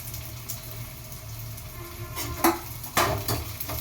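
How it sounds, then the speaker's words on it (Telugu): Green chillies drop into a pan of light-browned onions for a homemade chicken curry, giving a soft sizzle with scraping stirs and a couple of sharper clatters of spoon against the pan, no talking. "ఇప్పుడైతే పచ్చిమిర్చి వేసుకుంటున్నా"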